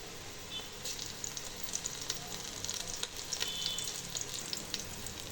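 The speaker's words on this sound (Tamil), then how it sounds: "இப்போ நல்லா கோல்டன் ப்ரௌன் ஆயிடுச்சு இப்போ நான் இஞ்சி பூண்டு பேஸ்ட் போடுறேன்" Ginger garlic paste is fried with golden-browned onions for carrot rice, giving a continuous moderate sizzle with occasional stirring scrapes and crackles throughout.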